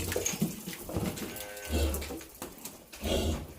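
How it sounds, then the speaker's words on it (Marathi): At a busy cattle market, a calf gives short mid-pitched calls in two or three bursts, with faint voices and livestock noise around it. "ऐका कालवड."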